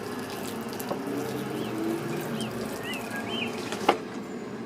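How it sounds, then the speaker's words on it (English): Water pours steadily onto the soil of a potted tomato plant, a continuous close splashing and trickling with a couple of small sharper splashes, and no voices. "you just need to water it in"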